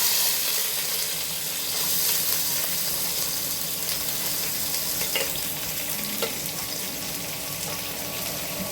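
Onions sizzle in hot oil with whole spices for Hyderabad biryani, giving a steady, hissing fry close up, with a few small pops rising over the constant crackle.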